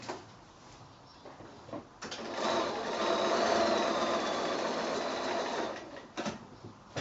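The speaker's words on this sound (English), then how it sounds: "now I'm going to go to the sewing machine" A sewing machine stitching quilt pieces runs in one steady burst of rapid stitching for several seconds, with quiet handling noises before and after.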